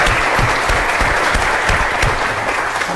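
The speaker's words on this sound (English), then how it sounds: "Let's give them a round of applause." Dense, steady applause fills a town hall budget meeting as the audience honors the budget and planning staff, loud and continuous from start to finish.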